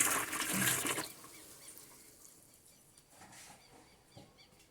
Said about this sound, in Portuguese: A primeira coisa é a gente colocar um pouquinho de água quente na bacia.